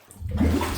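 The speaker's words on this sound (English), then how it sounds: "Alone in a flooded basement and something starts bubbling up behind you?" Water bubbles up in a flooded basement, starting quiet and quickly swelling into a gurgling, churning surge that holds for the rest of the brief moment.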